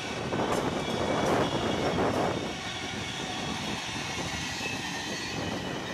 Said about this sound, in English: we'd catch this northbound auto rack train with a YN2 unit leading